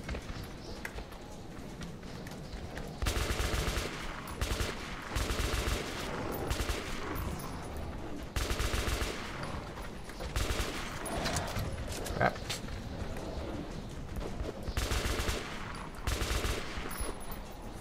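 Repeated bursts of machine gun fire in Metro 2033, loud rapid volleys of varying length, roughly a dozen across the stretch, with short gaps of quieter game ambience between them.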